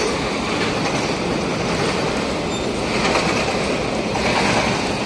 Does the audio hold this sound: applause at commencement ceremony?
no